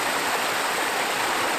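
Water in a stream at Carding Mill Valley in the Shropshire Hills rushes and splashes over rocks, a close, steady, broadband flow with no voices.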